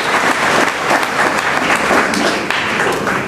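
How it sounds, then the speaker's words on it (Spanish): A church audience applauds a group of couples, dense sustained clapping from many hands that fills the room at a fairly loud level throughout. "Un aplauso para estas parejas,"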